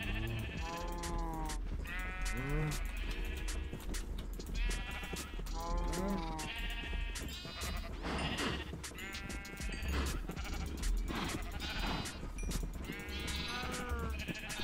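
Sheep in the video game Minecraft bleat again and again across a farm herd, overlapping calls from several animals with a steady background hum.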